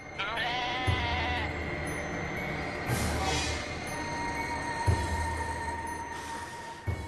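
A goat bleats four times at steady intervals of about two seconds, each call short and fairly close, over a continuous tonal backdrop in a mythological fantasy television drama.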